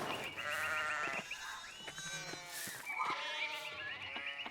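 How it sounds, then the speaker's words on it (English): Sheep bleat repeatedly in the video game Pentiment, several wavering calls overlapping across the scene, fairly close and prominent, with no talk over them. "Fucking sheep."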